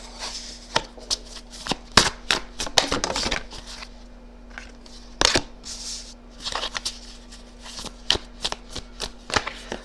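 Tarot cards shuffled close up in quick crisp riffles and taps, arriving in irregular bursts with short pauses, over a faint steady hum.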